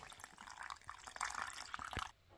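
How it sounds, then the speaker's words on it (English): Water poured into a sourdough starter jar, a close splashing and trickling fill with small drips lasting about two seconds before stopping. "Smack more water into that."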